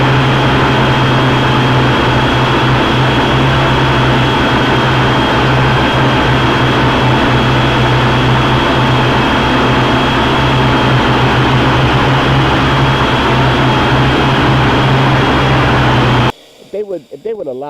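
A Cheerson CX 33 quadcopter drone hovers steadily, giving a continuous close buzzing whine of small motors that holds for about sixteen seconds before cutting off abruptly.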